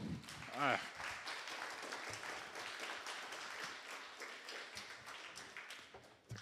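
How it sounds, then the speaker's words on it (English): An audience at a space day evening talk applauds, moderately loud clapping that rises after a brief whistle-like tone and tapers off gradually, with some voices mixed in. "All right, one more round of applause."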